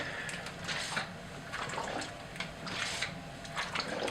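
Water running to rinse black and white film in a developing tank, a quiet continuous splashing flow with irregular gurgling surges, close and alone.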